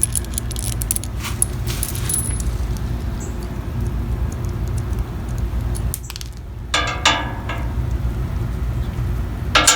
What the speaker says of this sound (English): These are smaller bolts and nuts than we were previously using.